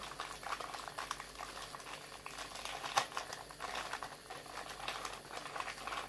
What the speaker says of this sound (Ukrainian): І давайте відкриємо цей пакунок